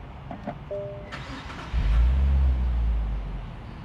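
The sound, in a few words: Nissan Fairlady Z Nismo engine starting via start button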